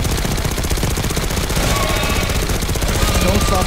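Sustained automatic gunfire hammers away in a zombie video game, a loud, steady, rapid stream of shots with no pause across the whole stretch.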